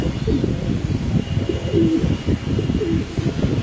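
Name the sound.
pigeons cooing in a cage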